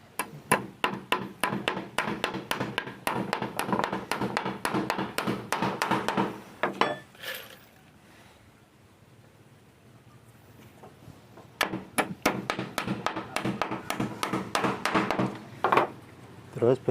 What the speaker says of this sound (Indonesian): Kita sekalian paku yang sebelah sini, lur.